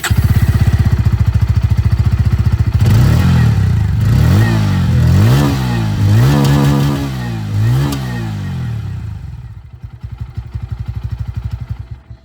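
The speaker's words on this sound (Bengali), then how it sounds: "আর এবার আপনাদেরকে আমি এখানে যে N160 আওয়াজ সেটাও আপনাদেরকে আমি শুনিয়ে দিই।" A 2026 Bajaj Pulsar N160 single-seat motorcycle exhausting up close, a loud rhythmic idle broken by a run of five or six quick revs rising and falling, then settling back to idle before the engine cuts and sputters.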